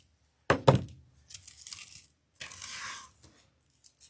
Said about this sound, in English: Zip tie nice and tight.